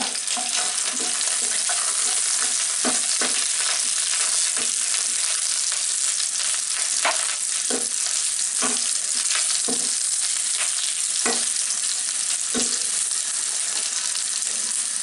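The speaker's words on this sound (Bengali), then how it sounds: "পেঁয়াজ বড় বড় করে কেটে নিচ্ছি ওইটা দিয়ে একটু ভেজে নেবো" Onion sizzles in hot oil with a steady crackling hiss, punctuated by periodic scraping knocks of a utensil stirring in the pan, large onion chunks being fried for matar masala.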